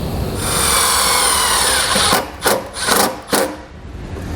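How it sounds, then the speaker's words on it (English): A power drill drives a self-tapping screw into the body of a 2019 Jeep Wrangler, a steady high whirring for about two seconds followed by several short bursts, close and loud. "We'll take one of the self-tapping screws and put it right onto the body right there."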